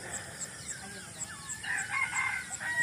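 A rooster crows in a rural provincial setting with mountains nearby, its call rising over a quiet morning backdrop with other birds chirping faintly and regular high chirps repeating.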